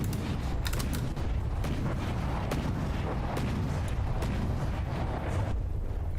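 Cannon shots striking and bursting around a battleship in the naval combat game From the Depths, a steady rumbling barrage of overlapping booms and cracks with repeated sharp impacts, dense and continuous without pauses.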